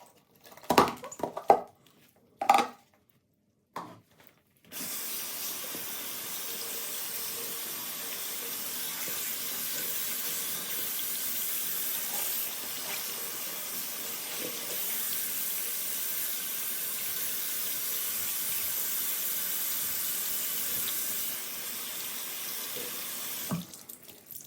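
Dyed cross-stitch fabric water poured out into a sink makes a steady, close rushing splash for about twenty seconds, following a few brief knocks and clatters at the start.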